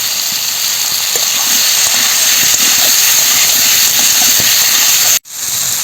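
Water poured into a hot pan of pumpkin and perch-like fish sets off a loud, close, steady hiss of steam that runs without pause, then cuts off abruptly near the end.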